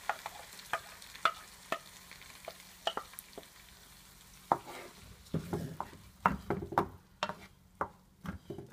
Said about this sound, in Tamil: இப்போ அரைச்சி வச்ச அந்த மசாலா வந்து இப்போ இதில் வந்து ஃபேனில் கொட்ட